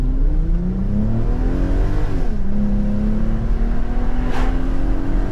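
A V6 Porsche Cayenne fitted with a K&N air filter accelerates hard from inside the cabin, its engine note climbing steadily through the revs, dipping at a gear change and rising again, loud and continuous.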